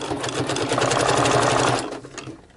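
Sewing machine stitching lace, a close, steady mechanical whir with a rapid pulsing rhythm that runs continuously, then slows and stops near the end.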